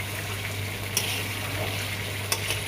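Chicken kosha sizzling in a pan with ground clove, cinnamon and a paste of spices, poppy-melon seeds and sesame: a steady, even frying hiss with a low hum beneath and two brief clinks.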